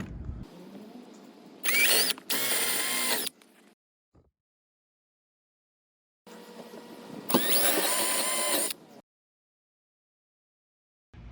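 A power drill bores holes for an all-thread shelf in two separate bursts of loud, whining drilling, with a quiet pause between them and faint handling noise around.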